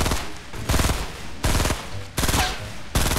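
Gunfire in the Fortnite Battle Royale video game, aimed at a llama: loud rapid bursts of automatic shots in four short volleys separated by brief pauses, close and punchy.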